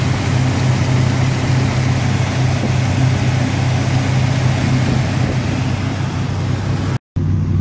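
A 1977 Ford F250 Dentside 4WD pickup's engine runs steadily at close range, a loud, rough, continuous rumble with a constant low throb that cuts off abruptly near the end.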